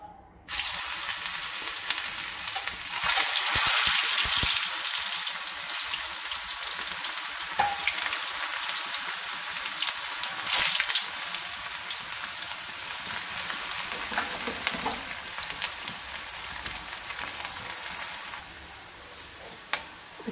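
A semolina and potato snack deep-frying in hot oil over a low flame: after a brief quiet start, a loud, close, dense hiss of bubbling oil runs steadily throughout and eases slightly near the end.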